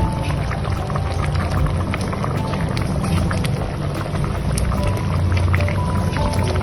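Thick shivlya (clam) masala bubbles and sputters steadily in a pan on the stove, a constant crackling simmer with frequent small pops and no speech.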